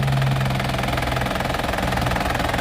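The turbo diesel engine of a 2007 Isuzu Panther LV idles steadily under an open hood, a close, even, slightly knocking rumble continuing throughout with no speech.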